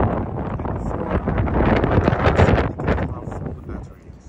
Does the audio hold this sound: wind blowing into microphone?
yes